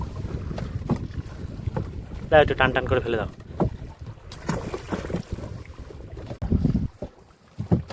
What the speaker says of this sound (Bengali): প্রচণ্ড উত্তরে হাওয়া, নৌকায় অসুবিধা হচ্ছে